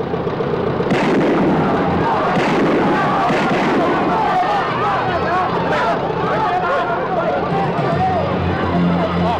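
Several loud gunshots crack out at uneven intervals over a continuous din of shouting, agitated crowd voices.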